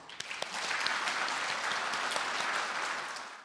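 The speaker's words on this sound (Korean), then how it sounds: "박수 부탁드립니다." Brief burst of audience applause at a book launch event, dense clapping that swells quickly, holds steady and tapers off at the end.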